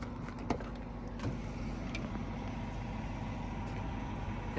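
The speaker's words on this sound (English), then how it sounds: "We've had this car running here for about 10 minutes" An LT1-engined Buick with about 179,000 miles sits idling after ten minutes of running, a steady low engine hum with a few faint clicks over it, alone and without talk.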